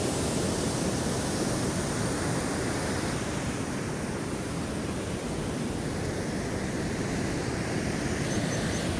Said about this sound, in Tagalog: naglalakihan nga alon.